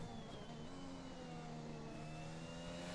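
Formula 1 car engine from a racing video game at the Japan circuit, a sustained mid-pitched whine with steady harmonic tones that holds level through a brief lull in revs, heard alone.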